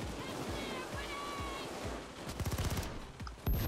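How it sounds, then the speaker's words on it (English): Submachine gun fire in Payday 2 during a bank heist: a few spaced shots, then a rapid rattling burst and a final loud shot, set against ambient game noise. "I'm just using all my submachine gun ammo right now"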